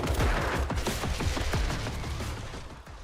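A burst of rapid gunfire from a zombie survival video game trailer, loud at first and then fading, heard alone with no talking.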